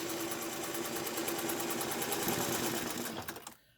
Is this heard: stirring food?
no